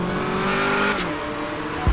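Engine of a 702-horsepower 2021 Ram TRX truck with a Hellcat engine, off-roading in GTA 5, a loud continuous close roar with a rising pitch that holds, then a brief thump at the end.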